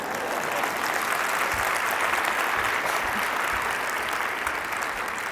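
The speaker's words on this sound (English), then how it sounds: "Give Jessica a round of applause." Sustained, dense applause from an audience at a health and wellness talk in Frisco, a steady wash of many hands clapping at even loudness for the whole stretch, with no voices standing out.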